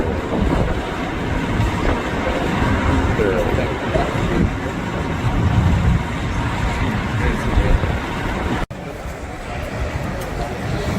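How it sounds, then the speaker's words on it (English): A late train passes near a city, a steady loud rumble of rolling wheels and carriages that fills the whole stretch without a break and holds close and even throughout. "Late train."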